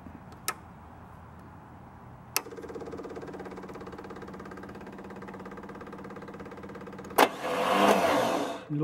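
A Turn-Key 140 model engine, number 32, is cranked by a starter with a couple of sharp clicks before it catches. It then runs at a steady, even idle and rises to a louder, rougher roar near the end.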